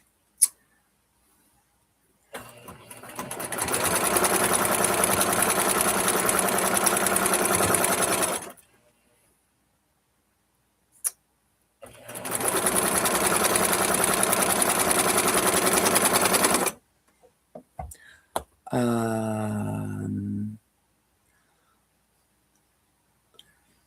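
Close up, a sewing machine stitches seams in two long, steady bursts of rapid whirring with a pause between them. A brief higher mechanical whine follows near the end, and the quiet gaps hold small clicks.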